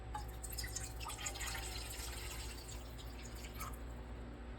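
Water, a measured 500 ml, runs into a cooking pot set on a lit stove, a steady low trickle with faint dripping and splashing throughout, fairly quiet and without talk.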